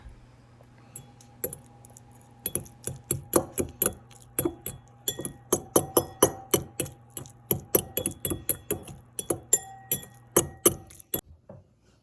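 Beet juice pulp mixture being stirred in a bowl, producing a series of quiet, rapid clinks and taps of a utensil against the container, irregular at first and then steadily rhythmic.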